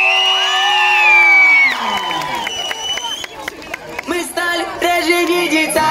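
Crowd at an outdoor youth day celebration cheering, whooping and shouting, children's voices among them, over loud music, with some scattered clapping and an amplified voice in the mix.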